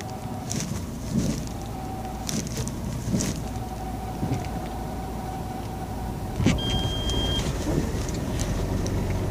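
Car engine revving with a rough, race-car-like roar, close and loud over road and wind noise, rising again near the end.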